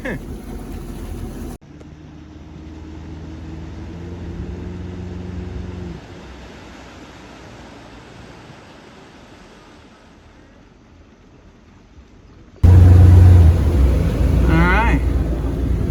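An old, worn-out boat's motor runs on a lake, a steady droning hum mixed with wind and water noise, fading for a stretch before swelling loudly again near the end.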